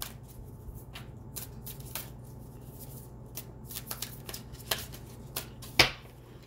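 Moonology oracle cards being shuffled by hand, soft riffling and tapping close by in a quiet room, ending with a sharper snap of the deck.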